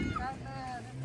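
A boat on the Konkan coast drones faintly with a low engine hum as it arrives, with wind buffeting the microphone and voices talking over it.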